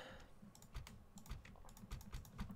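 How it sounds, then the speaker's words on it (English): Computer keyboard keys pressed in quick irregular bursts during a real-time strategy battle, close and fairly quiet, with clusters of clicks spread across the whole stretch and no voices. "Pressing the right click button that everyone has on their keyboard."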